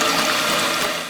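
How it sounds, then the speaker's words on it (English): Hot water gushes steadily into a large cooking pot in a home kitchen, a continuous, loud rushing splash with no pauses and no talking. "I'm first going to get some hot water into a large pot"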